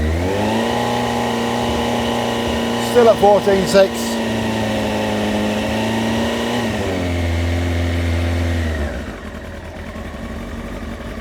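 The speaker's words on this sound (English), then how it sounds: "So we'll just give it a few extra revs." A Honda Fireblade motorbike engine holds a steady raised rev with a constant harmonic drone, then drops back toward idle; someone speaks briefly over it.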